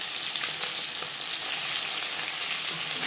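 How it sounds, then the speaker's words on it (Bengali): Bhola bhetki fish pieces frying in oil in a pan, a dense, steady, bright sizzle heard up close and unbroken for a few seconds, with faint crackles and no voices. "একটু সাবধানে ভাজতে হবে।"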